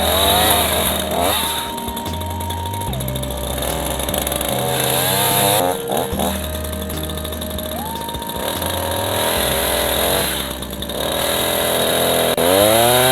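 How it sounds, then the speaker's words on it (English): A small 2-cycle chainsaw engine runs loud and close, its pitch revving up and settling back down in repeated surges as the throttle opens and eases off. "chainsaws, it's a 2-cycle engine, so it has oil in the gasoline."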